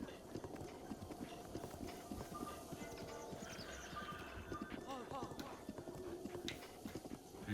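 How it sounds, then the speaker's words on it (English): Horse hooves clip-clop steadily along a path in Zelda: Breath of the Wild, an even walking rhythm of close hoof strikes heard beneath someone talking and quiet game ambience. "these horses are good once you get them conditioned and trained properly. They will walk the path."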